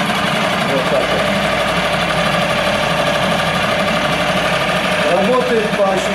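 CG Marine 6hp four-stroke outboard motor at idle, a loud, steady, fast mechanical chatter that runs unbroken, with a voice speaking over it.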